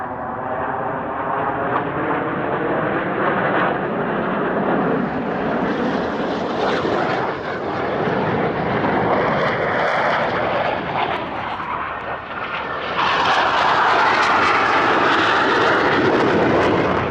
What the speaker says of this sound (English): The aircraft trailing red smoke, going to pass twice through this formation.